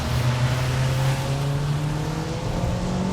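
A VW Golf VIII engine held at full throttle on a race track, a loud, continuous drone with steady harmonics climbing slowly as it pulls, no voices over it.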